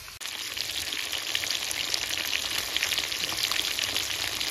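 Local bhetki fish fry crisp in oil with a dense, even crackling sizzle, close and constant throughout, starting just after a brief knock.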